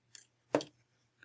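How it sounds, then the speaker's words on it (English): Rice paper for translucent hoop earrings being trimmed with scissors, a faint short snip followed by a louder crisp cut, then a tiny click at the end, quiet and close. "What I do next is I trim off the excess paper."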